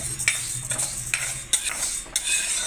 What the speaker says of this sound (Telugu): రోస్ట్గా వేయించుకోవాలి మరి ఎర్రగా ఉండవద్దు కొద్దిగా వేయించుకోవాలి